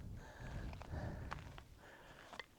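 Dog named Kit sniffing around a campground near a vault toilet, a few short close snuffling bursts at an uneven rhythm, fairly quiet, with light background noise.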